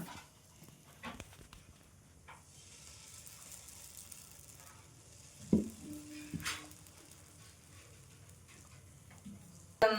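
Dosa batter sizzles faintly on a new nonstick tawa, a low steady hiss broken by a few sharp clinks and knocks of utensils.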